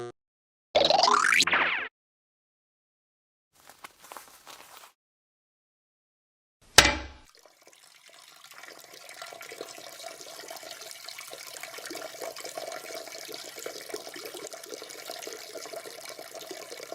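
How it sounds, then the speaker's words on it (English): Peeing sound effect from the video game Gacha Omorashi Nekunia: two short splashy bursts and a faint dribble, then a sharp plop followed by a long, steady trickling stream that keeps running to the end. "This is how the peeing sound effect from Gacha Omorashi Nekunia sounds like."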